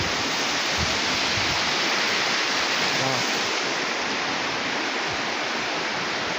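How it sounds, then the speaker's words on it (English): Mission Creek in Kelowna's regional park running high in spring, a loud, dense and unbroken rush of close water, with one brief exclaimed word from a voice over the roar. "The creek is really roaring here."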